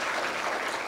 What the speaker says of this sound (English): So I clap for this woman.